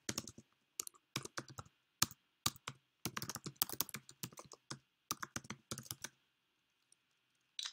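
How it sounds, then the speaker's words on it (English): Typing a web address on a computer keyboard, close quick bursts of clicky keystrokes separated by short pauses in a quiet room, ending in silence. "So I'm going to type in the link for that."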